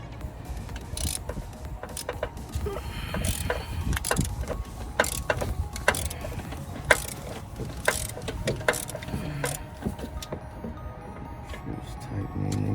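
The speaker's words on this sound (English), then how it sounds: "I'm gonna tighten this down." Tightening a bolt with a ratchet while replacing the alternator on a 2004 Nissan Maxima 3.5 L, a steady run of quick close metallic clicks and rattles.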